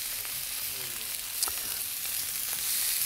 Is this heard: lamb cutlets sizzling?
yes